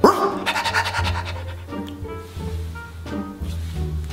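A dog pants close by in quick, breathy bursts with short pauses between them, fairly loud.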